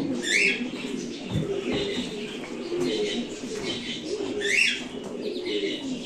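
Kept birds coo and chirp close by in a live-streamed setting, with soft repeated calls mixed under ongoing people's voices at moderate loudness.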